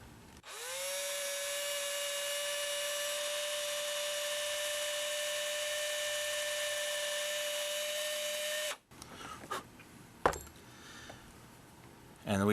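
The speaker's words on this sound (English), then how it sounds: "And then take the cordless drill." A cordless drill whines at a steady high pitch for about eight seconds while boring a hole through a miniature's model base, then stops, leaving a few light clicks and handling knocks.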